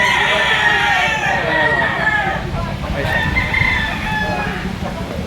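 A two-year-old gamecock with white legs and black plumage, kept among other roosters, crows loudly and nearby, with clucking and other fowl sounds alongside and a voice talking over them.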